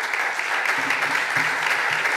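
Audience applause at a party convention (LDK), a dense, loud wash of many hands clapping together, continuous from start to finish.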